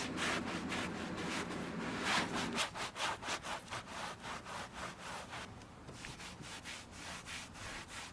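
A microfiber towel rubs Plasti-Dip off a car window in quick back-and-forth strokes, giving a close, rhythmic, dry scrubbing that speeds up and then settles into a steady pulse.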